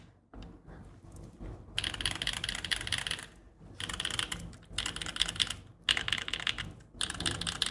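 Close, steady typing on an assembled Foxlab F80 SE mechanical keyboard, with bursts of rapid keystrokes broken by short pauses and a resonant clack to each press.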